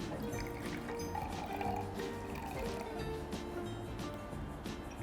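Plain water poured into an empty glass as the first step of lemonade, a steady liquid fill with soft trickling and dripping that continues close by for several seconds without talk.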